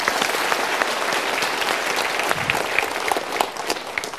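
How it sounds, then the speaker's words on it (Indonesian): A seminar audience applauds all at once, with dense, steady clapping from many hands that fills the room evenly for a few seconds at full, close volume and fades slightly near the end. "kita berikan tepuk tangan dulu."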